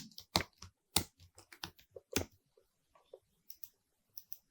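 Keys clack on a computer keyboard while entering column headings into an Excel salary sheet, in short bursts of crisp taps with pauses between, close and fairly quiet with no talking.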